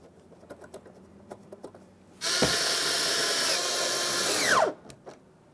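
A power tool snugs 7mm mounting bolts on a 2015-2020 Ford F-150 door, running in one sustained loud whir of about two and a half seconds that winds down at the end, with faint clicks and handling before it.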